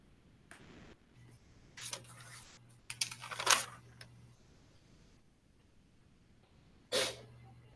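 One short, sharp sneeze sounds near the end, after scattered bursts of computer keyboard typing in a quiet room.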